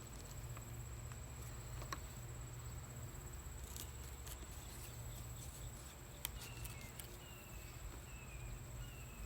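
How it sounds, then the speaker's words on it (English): Insects chirp outdoors at night, a faint, steady high-pitched trill running throughout, with a low background hum and scattered small ticks. "Bugs."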